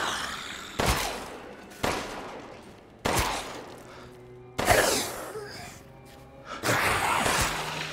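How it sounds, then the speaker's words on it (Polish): Gunfire in the video game Resident Evil Village rings out as four or five separate sharp shots spaced a second or so apart, each with a decaying tail, over quiet background. "Kurde, najbardziej się obawiam, że te strzały tylko przyciągną Dimitrescu do mnie."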